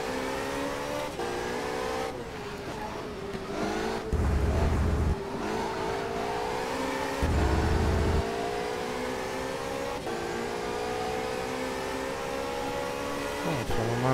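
A race car in the racing game Race07 drives at speed, its engine whining and rising through the gears with brief dips between shifts, loud and continuous, with short bursts of rumble partway through.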